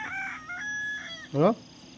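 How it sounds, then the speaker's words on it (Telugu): A few chickens foraging outdoors in a farm field cluck and call in short bursts, with one louder call near the end, over a quiet background. "మన కోళ్ళు ఎట్లా బయట తింటున్నాయి చూడండి"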